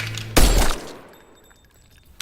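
Gunfire in a crime film scene, a single loud burst of blasts up close that rings out and decays, followed by a faint sharp crack near the end.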